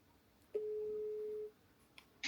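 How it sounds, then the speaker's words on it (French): A single steady ringback tone sounds for about one second while a phone call is being placed to a seafood business, clear and alone against a quiet background, with a couple of faint clicks afterward. "maintenant on appelle Rock"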